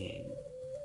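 A spotted dove gives a soft, low coo at a breeding farm, one steady sustained note heard faintly and briefly, with no talking.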